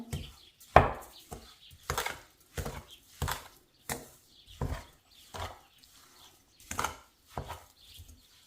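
Cottage cheese being mixed with sugar, salt and fork-beaten eggs in a bowl, with about a dozen dull, close knocks and scrapes landing in a steady, uneven rhythm, each one short, with quiet gaps between and no talking.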